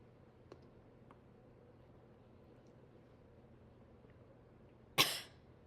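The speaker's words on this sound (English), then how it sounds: "The cough at the end also helps to expel any food or liquid that has entered the airway." A single sharp cough bursts out near the end of a swallowing maneuver demonstration, loud and abrupt against a quiet room with faint background hiss and a few small clicks before it.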